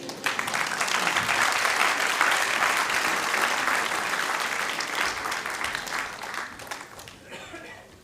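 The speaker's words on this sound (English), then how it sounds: "Can we hear a round of applause once again for Swami Bhagavan Keshava Maharaj?" A crowd applauds steadily at a Gita Jayanti gathering at Bhaktivedanta Manor, loud and sustained, with a few chuckles in the mix before it fades toward the end.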